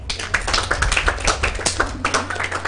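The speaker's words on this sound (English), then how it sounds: "Clap for yourself." A woman at a beauty pageant audition claps her hands for herself, a quick run of close, sharp claps with irregular spacing and no talk over them.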